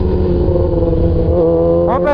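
A motorcycle goes by on the road, its engine pitch lifting briefly near the end over steady background traffic noise.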